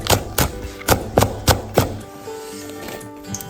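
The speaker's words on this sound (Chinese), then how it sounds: "再切点蒜苗叶子。" A knife chops garlic sprout leaves on a cutting board. Six steady, close knocks form an even rhythm, then the cutting stops and only a quiet room remains.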